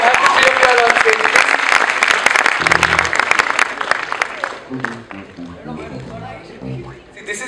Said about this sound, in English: can we have a round of applause for Shauna, Rakshita, and Arjun?